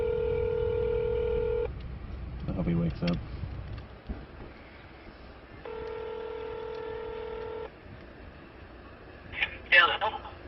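Telephone on a prank call, heard as a steady dial tone, then a quick run of dialing beeps, a repeating ring tone, and more rapid tones near the end, with a person speaking briefly between them.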